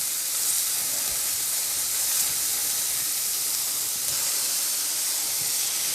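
A cheeseburger patty fries on a hot griddle, giving a constant, even sizzling hiss with no talking and no breaks.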